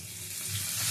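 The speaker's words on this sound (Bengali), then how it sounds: "পেঁয়াজ কুচিটা দিয়ে পেঁয়াজ কুচিটা ভেজে নেব।" Chopped onion and tomato fry in a pan with a soft, steady sizzle that builds slightly over a brief moment, with no voices.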